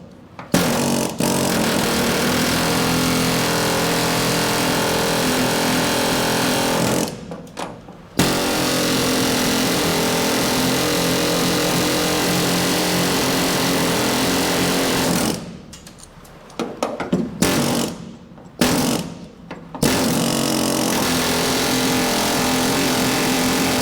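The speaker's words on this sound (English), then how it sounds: "let's go ahead and continue on with our zipping off of the back of the rivets" A power tool cuts off the rivet backs on a panel of the screen-used Knight Rider semi truck. A loud, continuous buzzing whine runs close to the mic, with brief pauses near the middle and a stuttering break toward the end.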